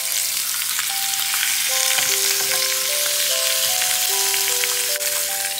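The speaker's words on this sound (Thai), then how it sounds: "กระทะร้อนแล้วนะคะก็เอาไก่ลงไปย่างเลยค่ะ" Chicken pieces sizzle and fry steadily in a hot pan over moderate heat, a dense continuous crackle with occasional pops, close and fairly loud throughout, with faint background tones and no talk.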